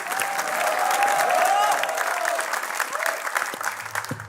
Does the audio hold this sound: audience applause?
yes